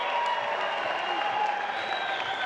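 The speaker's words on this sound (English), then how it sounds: "let's give both of these fighters a big round of applause" A crowd at a Shamrock FC fight event applauds the fighters with dense, steady clapping and faint cheering, loud and continuous throughout.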